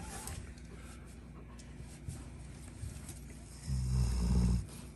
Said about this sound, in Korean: 진짜 사람 코골이 들었다